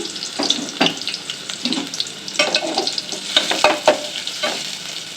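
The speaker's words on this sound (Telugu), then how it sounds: "ముందుగా ఆయిల్ వేసుకుందాము ఉల్లిపాయలు వేస్తాను" Finely chopped onions fry in hot oil in a pan while being stirred, the first step of a home-cooked gongura chicken. A loud, close sizzle carries irregular clinks and scrapes of a utensil against the pan, with no talking.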